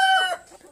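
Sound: chickens clucking in a chicken coop

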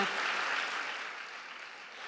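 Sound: applause

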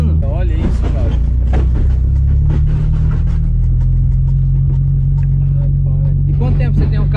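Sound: lowered car driving on a smooth road

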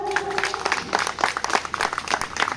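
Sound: applause

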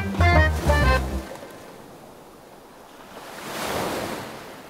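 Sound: sea waves

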